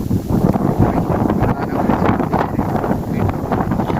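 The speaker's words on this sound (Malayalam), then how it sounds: "പക്ഷേ അത്രയും കാറ്റാണ്" Strong wind buffets the microphone in a constant, loud roaring rush, gusting unevenly throughout with no voices, on a hilltop at Ponmudi.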